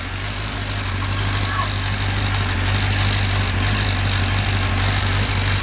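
A 1966 Chevy truck engine, freshly installed on a stand, idles steadily at 600 RPM with a low rumble without letup, faint vibration and a brief higher whine partway through.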